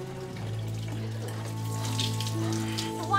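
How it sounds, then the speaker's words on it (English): Freezing water splashing and running during washing in the dead of winter, a steady wet wash beneath a low humming tone, with no voices. "Washing with freezing water in the dead of winter will kill us!"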